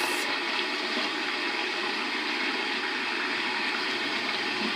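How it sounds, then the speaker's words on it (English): Steady rush of running water from a tap during a rinse, continuous and fairly close with no talking. "And then you want to give a good rinse."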